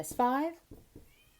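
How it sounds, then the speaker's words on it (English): A cat meows once outside a door, a clear rising-and-falling cry heard nearby in a quiet room, followed by a few spoken words. "You can hear a cat outside the door."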